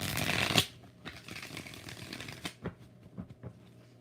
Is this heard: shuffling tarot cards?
yes